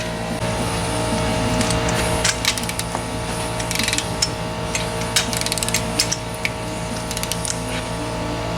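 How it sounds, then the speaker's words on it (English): A torque wrench ratchets in irregular clicking runs while tightening bolts on an AMC 304 engine block during assembly, loud and close with steady mechanical clatter and a low hum underneath. "I'll get my torque wrench and our torque specs"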